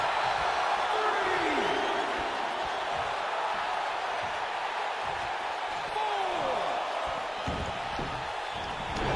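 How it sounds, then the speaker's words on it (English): A wrestling arena crowd murmurs and stirs in a steady roar with scattered whoops and a few thuds from the ring, while a commentator talks over it. "Sounds to me like this crowd's a little shocked to see him on the receiving end here."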